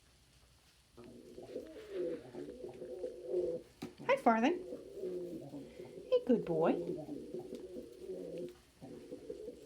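Pet pigeons coo softly and steadily nearby, a low rolling murmur with a couple of brighter louder calls, while a person speaks gently to them over it.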